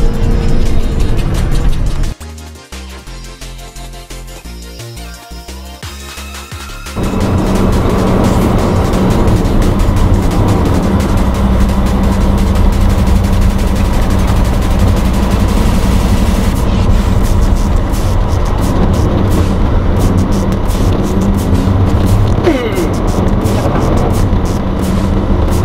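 A car drives along a road, heard from inside: after a quieter, uneven start, a steady loud rumble of engine and tyre noise settles in and holds close and constant.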